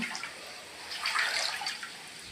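Floodwater from heavy rain in Thoothukudi running into a house, a continuous hissing, rushing flow of water heard close by at a steady level, with no voices.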